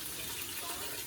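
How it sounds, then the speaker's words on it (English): Tap water runs steadily into a sink while potatoes are washed for a pressure-cooked short rib dish, a continuous close splashing hiss. "So I like to wash my potatoes"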